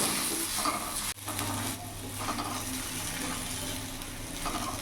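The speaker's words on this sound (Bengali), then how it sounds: "বেগুনগুলো একটু লাল লাল করে ভেজে নেব" Brinjal pieces seasoned with salt and a little turmeric fry in a pan, a steady close hiss and sizzle with stirring scrapes and a brief break near the start.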